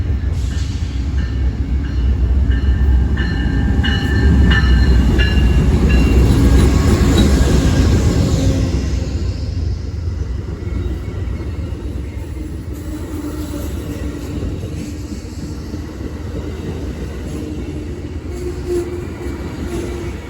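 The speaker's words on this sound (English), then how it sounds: "here's Amtrak train number 5" Amtrak's California Zephyr passenger train rumbles past nearby, loud and steady at first with some wheel squeal, then fading into a lower rolling rumble.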